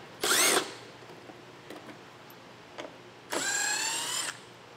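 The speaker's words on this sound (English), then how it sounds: "Take a 7mm socket and get those removed." A power tool fitted with a 7mm socket whirs in two short bursts, removing bolts on a 2023 Buick Enclave. Faint clicks fall between the bursts, and everything is heard close up with no speech.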